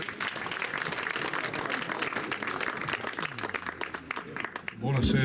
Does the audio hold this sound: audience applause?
yes